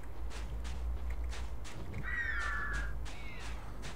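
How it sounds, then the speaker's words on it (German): Crows cawing in the fantasy video game Divinity 2, a few harsh calls in the middle over a steady low hum and soft repeated thuds like footsteps. "Ah, sind das die huren Vögel"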